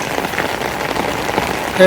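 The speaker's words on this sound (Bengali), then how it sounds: "দেখেন কিভাবে বৃষ্টি পড়তেছে" Rain pours onto a rooftop garden in Dhaka, a dense, close patter of drops on surfaces that hisses steadily throughout the brief moment.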